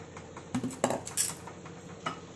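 A spoon mixing cornflour and water in a bowl, close metallic clinks and scrapes in a few quick bursts against the bowl, with quiet pauses between and no speech.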